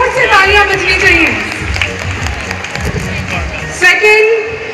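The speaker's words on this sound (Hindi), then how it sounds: "जोर से तालियां बजनी चाहिए।" Applause from the audience at a school annual function in Gurdaspur: a dense, steady wash of clapping throughout, with an announcer's amplified voice over it.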